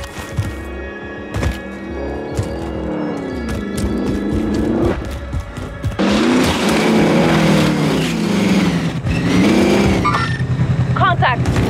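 A vehicle engine drones and revs steadily through a Call of Duty Warzone match, its pitch rising and falling with acceleration, heard beneath frequent voice chatter and game radio callouts.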